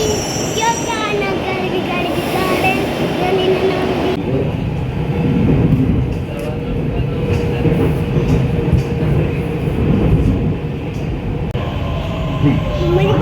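A metro train pulls in at a station, rumbling loudly with squealing wheels and rising tonal whines, brakes hissing and clacking as it slows, close and continuous over nearly fourteen seconds.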